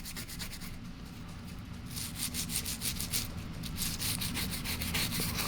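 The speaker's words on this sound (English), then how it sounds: "An old toothbrush is perfect for applying this to wider, larger surfaces like these grip panels." An old toothbrush scrubs solvent across pistol grip panels on a SIG Sauer or Smith & Wesson handgun, giving steady rapid bristle rubbing, close and continuous, growing a little louder partway through.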